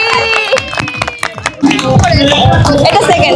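Applause at a picnic prize giving, a crowd clapping in a dense burst after a brief spoken announcement, with voices mixed in.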